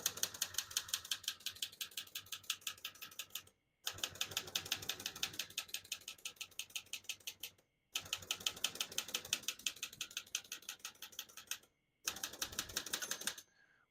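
Rapid mechanical clacking of a 1968 Olivetti Lettera 31 manual portable typewriter in fast bursts, separated by brief pauses for carriage returns and the margin bell; no one speaks.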